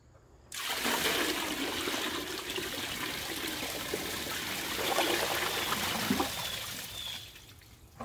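A whole bucket of water dumped into a 2016 Kohler Sifton toilet for a bucket flush test, giving a loud, steady rushing pour and swirl lasting several seconds before it tapers into a quieter trickle and gurgle.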